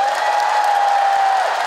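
Concert audience at a Seoul show applauding and cheering, a steady, dense wash of clapping and crowd noise throughout with a sustained tone running over it.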